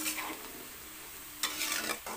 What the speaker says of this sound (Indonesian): ini aku goreng hingga kering